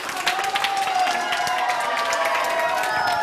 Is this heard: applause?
yes